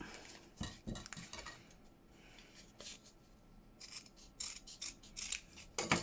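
Scissors snip through fabric for a junk journal embellishment in several short close crunching cuts separated by pauses, with no talk.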